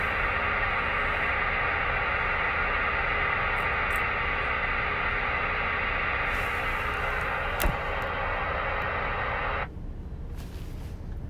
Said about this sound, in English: You want to listen to the static?